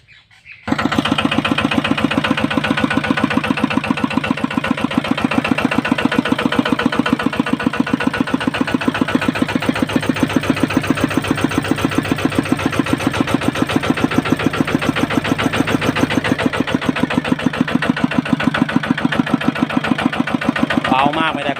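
A small engine idles steadily and loudly after a brief silent start, its rapid even chugging holding constant throughout.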